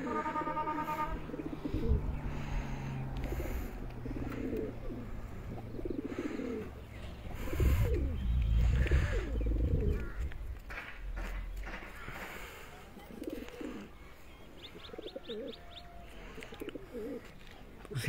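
Pigeons coo softly in low, throaty bursts on a rooftop in Abbottabad, amid chirps and general outdoor bustle, with some voices and movement nearby.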